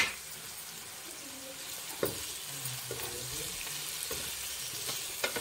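Chicken with green chillies frying in a pan gives a steady, bright sizzle, broken by a few soft clinks and stirs at intervals, with no voices over it.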